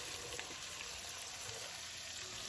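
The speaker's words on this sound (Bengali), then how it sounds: "এখন আমি তরকারির বাগার দিয়ে দিচ্ছি দিয়ে দিলাম পেঁয়াজ" Onions dropped into hot oil for a Bengali curry tempering, sizzling and frying in a steady, dense hiss that stays loud and even throughout, with no talking over it.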